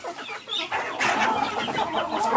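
Several backyard chickens cluck and chatter while pecking at rice being scattered for them, a busy close-up flock of short overlapping calls with no one speaking.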